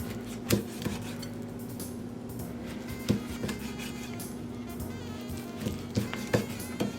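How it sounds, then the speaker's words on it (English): Cold smoked pork belly being sliced with a knife on a board, producing sparse sharp knocks and light kitchen clatter at irregular intervals, with no talking. "So we'll take some slices of our smoked pork belly"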